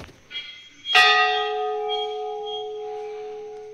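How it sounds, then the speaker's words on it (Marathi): Temple bell at a Narmada shrine, struck once after a faint tap, its bright clang settling into a long, shimmering hum that slowly fades, heard from a slight distance. "घंटा दुरून जास्ती छान वाजतो."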